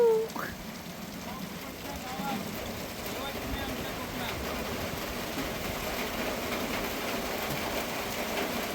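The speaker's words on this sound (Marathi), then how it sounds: "सुंदर असा पाऊस पडतो, सुंदर" Steady first rain of May falling over a Kokan village, a dense even hiss with low rumble throughout, with people talking in the background.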